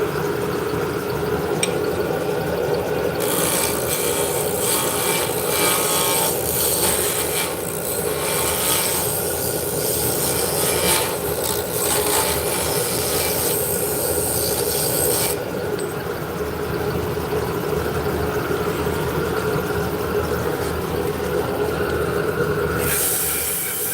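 Carbide tool shaping a spinning wooden whirl on a lathe, a steady close rasping scrape that runs continuously with brief shifts in texture as the cut changes.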